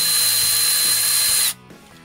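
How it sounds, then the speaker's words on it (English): Power tool whirring to tighten an 8 mm worm gear clamp on a Jeep Wrangler JK radiator hose, a loud steady buzz of about one and a half seconds that cuts off abruptly, followed by faint clicks. "Ratchet worked fine. I just like power tools."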